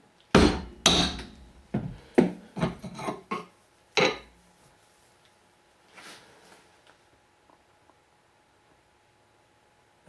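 A wrench on an AR-15 barrel nut is tapped with a hammer, giving about a dozen sharp, close metallic knocks in an uneven rhythm. Fainter rustling follows and then near silence.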